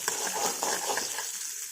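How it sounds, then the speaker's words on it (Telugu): Green chillies and curry leaves being stirred in hot oil as a tempering for a buttermilk rasam, with a brief, close, crackling sizzle and soft scraping strokes that fade toward the end. "ఇప్పుడు పచ్చిమిర్చి, కరివేపాకు వేసుకుందాం. ఇలా వేసుకున్న తర్వాత కలుపుదాము."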